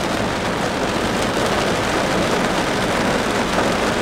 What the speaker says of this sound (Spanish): Día nublado, día lluvioso, día con muchos truenos aquí en Playa del Carmen.